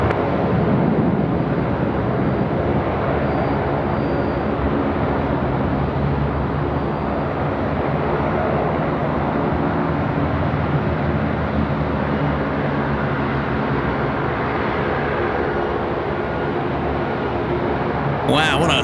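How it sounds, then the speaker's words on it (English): Boeing 787 jet taking off at Sydney Airport, a long steady broadband engine roar filling the whole stretch at an even, loud level, with no talk over it. "Wow, what a long and lean departure. Typical of that of a 787."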